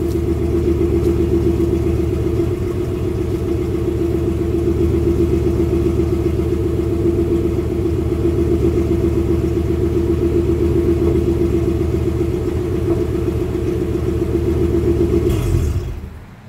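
A Gen 3 Ford Mustang Coyote V8 with an intake cam issue idles steadily and loud at close range, its low rumble carrying a slight lopey stumble, before cutting off abruptly near the end; no talking.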